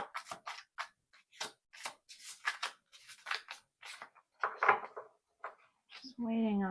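Oracle cards are shuffled in a run of quick, crisp riffles and flicks, close and fairly quiet, with soft pauses between bursts and a brief voice near the end.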